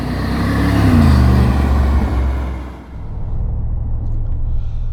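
A 2025 Mercedes-AMG G63 SUV with a 48-volt system and hydraulic suspension rolls along the road, a loud low engine drone and tyre rumble that swells, eases off, then settles into a steady cruising hum.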